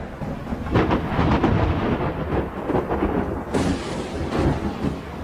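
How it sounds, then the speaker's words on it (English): Thunderstorm on a forest island camp with rolling, rumbling thunder and heavy torrential rain, loud and continuous with several booming crashes, one sharp crack partway through. "Lightning cracked across the sky, thunder echoed through the island"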